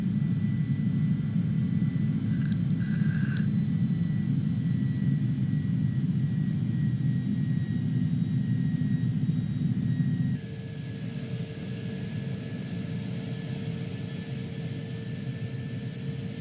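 Airbus A310 jet on landing approach in Microsoft Flight Simulator 2020, a steady loud low engine rumble with a faint high whine, a few brief tonal chimes, then the engine tone shifts lower partway through.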